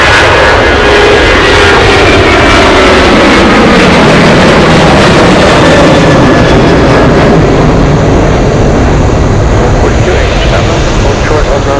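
Loud, sustained roar of a jet airplane at Anchorage airport, a broad rushing engine noise with shifting whine as it powers along, overlaid by radio chatter from air traffic control.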